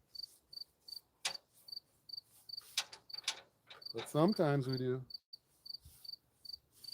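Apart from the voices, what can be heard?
crickets chirping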